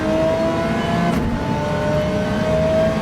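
An Audi R8 Evo GT3 race car in a GT3 racing video game holds a loud, continuous high-revving engine drone that climbs slightly while flat out on a straight, close and steady with no talk.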